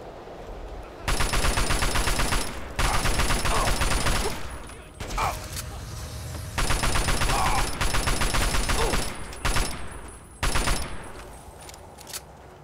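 Rapid automatic gunfire in Fallout 3 during the Operation Anchorage simulation, coming in long loud bursts broken by short gaps, with a few single shots in between.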